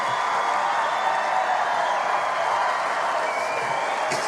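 Comedy gala audience in a large venue cheering and applauding a People's Choice Award–winning comedian, a steady dense wash of clapping and whoops throughout, loud and continuous.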